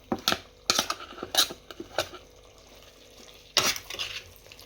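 Masala added and stirred into a prawn curry in a pot, with a spoon clacking and scraping against the metal in an irregular series of close, sharp knocks.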